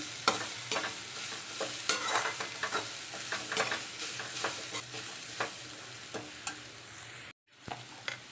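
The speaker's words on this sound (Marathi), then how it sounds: "कारली कांदा आणि कारली सगळं मिक्स करून घ्यायचं आहे" Bitter gourd and onion are stirred and fried in a pan, a continuous sizzle with repeated scraping spatula strokes at an irregular rhythm, close up, cutting off abruptly near the end.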